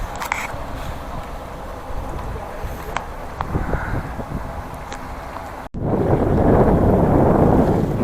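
A cold headwind with drizzling rain buffets the microphone on an open road in Gansu, China, a steady broadband rush that surges louder toward the end after a brief break, with no voices.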